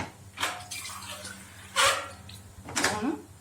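Water is poured from a glass into a pot of red rice in a home kitchen, coming in three separate splashing pours at close range over a quiet background.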